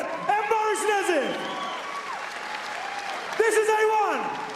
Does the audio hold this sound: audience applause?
yes